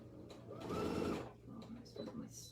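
A sewing machine quilts fabric for a jelly roll mug mat, whirring in a close, steady burst of stitching lasting about half a second, followed by quieter mechanical clicks, with a voice speaking around it.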